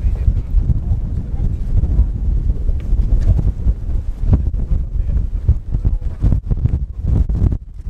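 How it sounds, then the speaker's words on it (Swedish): Strong wind blows on a mountain, heavy gusting roar buffeting the microphone, loud and continuous with rumbling low thuds throughout. "For det blåser da."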